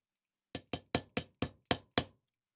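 Seven quick, sharp metallic taps, evenly spaced and close, as a 1/8 inch punch drives a pin while a Staccato CS pistol is assembled, with silence before and after.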